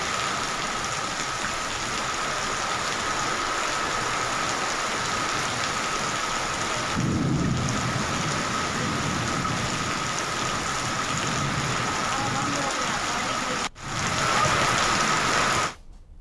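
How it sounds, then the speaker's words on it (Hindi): Heavy rain pours steadily during a thunderstorm in Geedam and Dantewada, a dense continuous hiss with strong wind, broken by one brief dropout near the end; no talking. "गीदम और दंतेवाड़ा में गरज चमक के साथ बारिश हुई।"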